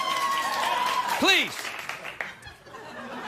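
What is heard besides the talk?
studio audience applause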